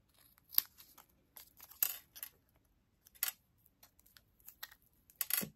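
Card stock being cut for a Stampin' Up! handmade card, a few quiet, sharp snips and papery clicks spaced irregularly, close but faint.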